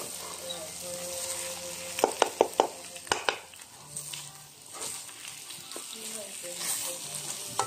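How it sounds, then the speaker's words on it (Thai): Minced pork stir-fried with chili paste in a pan for khanom jeen nam ngiao, a soft steady sizzle with scattered sharp scrapes and clanks of a utensil against the pan, close and fairly quiet. "ใส่หมูบดลงไปครับแล้วก็พัดกับน้ำพริกนี่ครับ"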